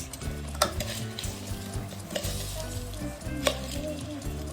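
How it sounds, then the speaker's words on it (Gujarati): Bhel snack is tossed and mixed in a bowl with steady scraping and rustling strokes and occasional sharp clinks of a utensil against the bowl, close and continuous over a low background hum. "કરી દઈએ મિક્સ."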